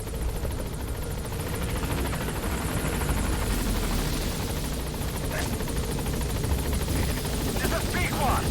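Metal Gear Solid V's B-Quad support helicopter comes in with a continuous, close rotor beat and turbine whine, while speech and faint game effects sit over the steady drone.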